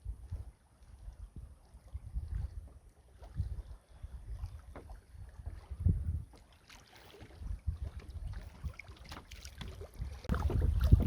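A kayak moving through small river rapids on a foggy morning. Low, faint water rushing and splashing mixed with wind buffeting, swelling louder toward the end.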